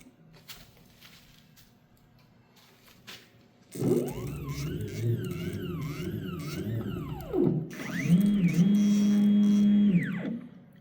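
A CNC machine's spindle drive whines through rising and falling tones as the spindle repositions, then holds a steadier pitched hum, close by with no talk over it.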